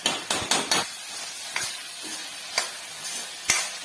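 Peas and potatoes frying in a pan, with a soft background sizzle broken by several sharp scrapes and knocks of a spoon stirring, irregularly spaced and close.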